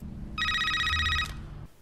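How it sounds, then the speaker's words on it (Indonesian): A telephone rings once in a short electronic trill lasting about a second over a low hum of background noise, then cuts off, with no talking. "Ray pun harus terbangun karena suara telepon"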